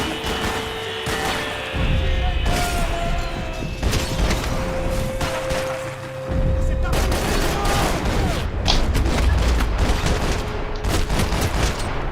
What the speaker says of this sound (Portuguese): Só um tiro já basta, mas vamos descarregar o Payne.